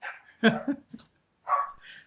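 A dog barks a few sharp, close times in quick bursts with a short pause, heard indoors during a Skype chat with no speech over it.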